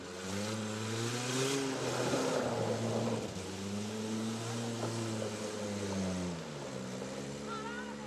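A car drives along a rough stretch of road by a broken-down culvert, its engine droning close and loud with pitch rising and falling as it labours over the uneven surface.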